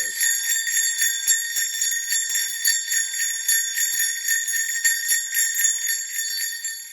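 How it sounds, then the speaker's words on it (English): Christmas sleigh bells jingle steadily and brightly throughout, a continuous shimmering ring with small rhythmic shakes, close and fairly loud with no talking. "I brought out Christmas sleigh bells"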